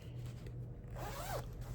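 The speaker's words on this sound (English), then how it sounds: "and I'm sorry for the zippers" A zipper on a stitching project bag or pouch is pulled once in a quick, close rasping sweep over a faint low background hum, with no talking.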